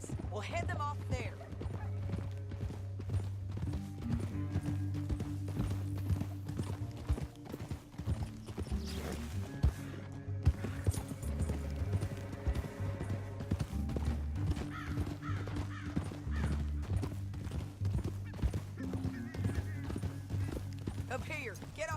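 Horse hooves clip-clop steadily through a Red Dead Redemption 2 game scene, a continuous rhythmic trot under a loud orchestral score, with characters talking over it at times.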